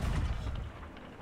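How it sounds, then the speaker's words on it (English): A pirate ship's cannon fires in the video game Sea of Thieves: one deep, rumbling boom with a heavy low end that rolls off gradually over about a second, with no voices over it. "Use the cannon."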